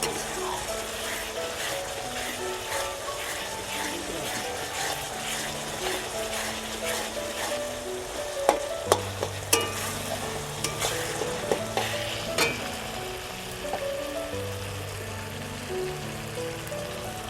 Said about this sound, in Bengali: মশলাটা আমার কষানো প্রায় হয়ে এসেছে